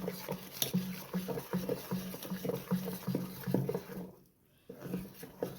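Cooked jaggery syrup is poured and stirred into a navadhanya kuzhi paniyaram batter, making soft, quiet, rhythmic wet patters and squelches with a brief pause before the mixing resumes.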